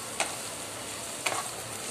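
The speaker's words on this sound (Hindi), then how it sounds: "इधर मेरे प्याज जो हैं वो फ्राई हो रहे हैं" Onions frying in a kadhai, a soft continuous sizzle with two brief stirring scrapes, quiet and close.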